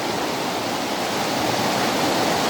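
Fast-flowing river water rushes in a steady, loud, unbroken hiss close by, with no voices or other sounds.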